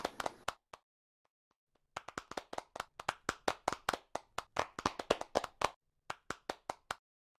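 Scattered hand claps at an awards ceremony: a few claps, a short pause, then a long run of separate, fairly quick claps that stop briefly and resume for a few more.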